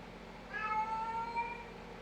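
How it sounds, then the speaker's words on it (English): A pet cat gives one drawn-out, faint meow indoors over a steady low background hum. "And that's my cat."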